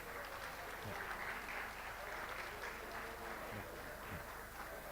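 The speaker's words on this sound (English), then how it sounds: "please stand up and give a big round of applause for our honorable speakers today" A standing audience at a policy dialogue on the Vietnam-Indonesia strategic partnership applauds the honorable speakers, a dense, steady wash of clapping at moderate distance that continues throughout.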